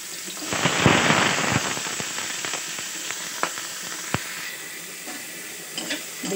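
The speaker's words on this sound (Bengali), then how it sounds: "বেগুন আর আলুটাকে ভালো করে ভেজে নিয়ে" Eggplant and potato pieces fry in hot oil in a wok, a loud close sizzle that swells early, then settles into steady frying with scattered sharp pops and crackles, and no one talks.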